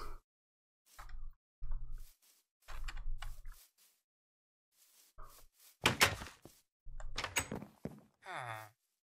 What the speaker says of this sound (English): Villager just scared me by opening a door.